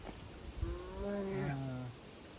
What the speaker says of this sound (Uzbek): Eshityapsizlar? Ayiq ovozi.